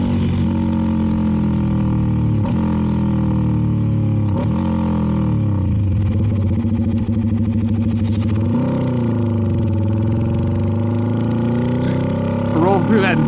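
A CFMoto 300NK motorcycle fitted with a KO exhaust, carrying two riders, hums at steady engine tone with wind rush, the pitch dipping and shifting as it slows and rolls on; a rider talks briefly.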